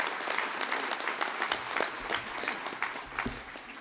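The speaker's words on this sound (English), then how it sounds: "So please give a warm hand to our longtime MC. Monsieur Pierre" Audience applause at a hall of fame induction ceremony, a steady wash of many hands clapping that stays loud through the whole stretch, with no speech over it.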